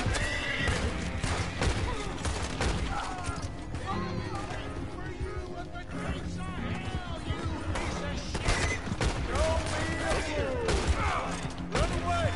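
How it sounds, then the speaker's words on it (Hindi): A horse in Red Dead Redemption 2 whinnies repeatedly while hooves clip-clop at a gallop, set against a busy police shootout with scattered gunfire and someone talking over the action. "ओ घोड़ा मेरा पता नहीं कहाँ कहाँ भाग रहा है।"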